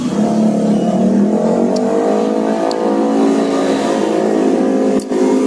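Motorbike engine revving close by, a loud buzzing whine that swells and holds with shifting pitch, running continuously for several seconds, with a few faint clicks on top.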